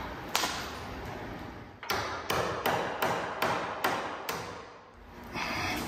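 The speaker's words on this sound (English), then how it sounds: "I had to get the hammer and chisel out" A hammer drives a chisel into metal on a trailer while bolt-on D-ring tie-down anchors are being fitted. Nine sharp, ringing strikes land in a fairly steady rhythm, close and clear over faint background noise.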